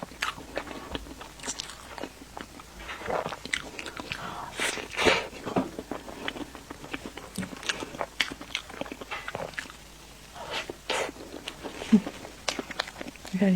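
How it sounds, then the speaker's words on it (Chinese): Close-up eating of sweet foods such as roll layer cake and pudding, soft wet bites and chewing in an uneven rhythm, quiet and near, with low background noise. "我再吃一口。"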